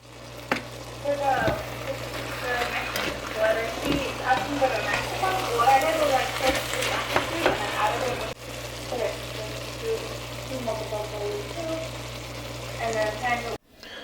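Garlic sizzles and fries in a pot over a campfire for chili, a steady crackling hiss broken by occasional scrapes and clinks of stirring, fairly close and constant throughout.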